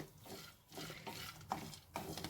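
Dry fruits roasting in a pan on a gas stove, soft quiet stirring and scraping with a light sizzle and a couple of faint clinks, close and without voices.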